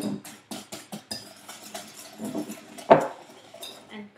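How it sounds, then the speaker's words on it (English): Floating islands custard mixture is whisked in a bowl, giving quick rhythmic clinks and scrapes of a utensil against the side, close and fairly soft, with one sharper knock partway through. "So you can mix it until it becomes a bit lighter."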